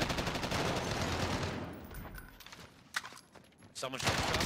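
Gunfire rings out in a video game shootout: a dense burst of rapid automatic shots, then a lull, then a few sharper scattered shots, with players talking over the action.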